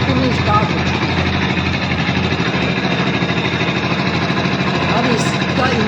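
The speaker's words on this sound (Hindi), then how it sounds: "ये मेरी बाइक एक सेल्फ में स्टार्ट हो चुकी है।" A BS6 fuel-injected motorcycle engine ticks over at idle just after an electric self-start, a steady, close, even mechanical chatter that holds without revving throughout.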